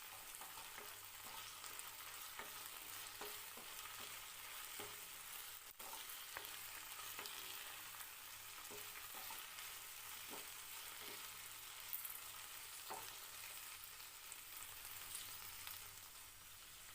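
Okra (bhindi) cooking in a covered pan on low heat gives a soft, steady sizzle, with occasional faint clicks and ticks scattered over the quiet frying hiss.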